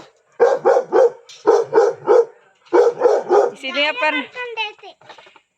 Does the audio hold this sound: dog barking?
yes